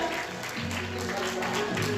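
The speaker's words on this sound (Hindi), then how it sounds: "जोरदार तालियां एक बार" A crowd at a talent competition claps steadily throughout, a dense patter of applause with a voice speaking over it.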